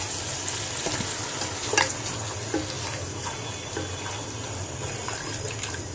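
Meat sizzling and frying steadily in a pot as it is sautéed for biryani, a continuous close hiss with faint scraping stirs and a few small clinks, no voices.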